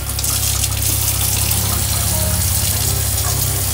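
Cold water gushing steadily from a pump-fed tap in a skoolie bus conversion kitchen, a continuous loud rush of running water with a low pump hum beneath, no talking.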